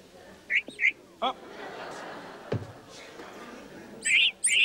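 A few short, high comic whistles, a whistling-udders sound effect, chirp in quick bursts, with a brief pause between them and a murmur of background noise.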